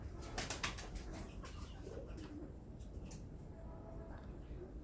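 Pigeons coo softly in a loft where newly paired white-breasted and kolshi-necked birds are kept, low murmuring calls under a steady, noisy background with a few brief louder bursts near the start.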